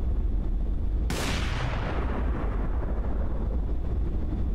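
A loud, sudden gunshot blast from Left 4 Dead cracks out and then rolls into a long decaying boom over a continuous low rumbling background.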